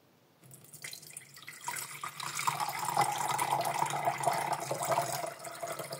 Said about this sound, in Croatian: Kada riža omekša, procijedite vodu i ostavite da se ohladi.